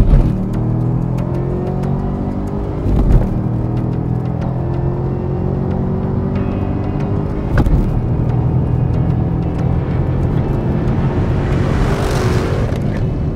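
A 2012 Chevrolet Camaro ZL1 launches hard from around 4,000 RPM, its loud engine note climbing through rising gear pulls with brief dips at shifts, continuous and close with no talk.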